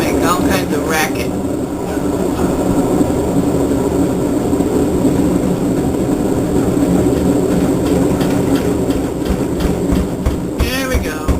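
A Whirlpool Cabrio washing machine with bad bearings and a damaged tub roars loudly and continuously, a dense grinding rumble with rattling racket that stays steady throughout.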